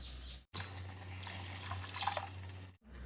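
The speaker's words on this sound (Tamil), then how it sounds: "தேவைக்கு தண்ணி ஊற்றிடலாம்." A steady stream of water pours into a cooking pot of ground masala for fish curry for a couple of seconds, close and continuous, with a faint hum underneath.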